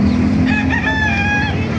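A rooster crows loudly and close by at a livestock market in Baliuag, a drawn-out rising call, over a steady background rumble of engine-like noise.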